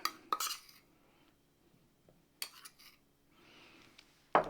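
A chicken marinade of lemon juice, zest, olive oil and spice mix is stirred in a bowl, with sharp clinks of a utensil against the dish in separate bursts and quiet scraping between them.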